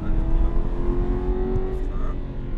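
An Aston Martin on a race track under steady, loud engine drone as it accelerates, harmonic whine holding continuously near and close for the whole stretch, with a voice faintly present beneath.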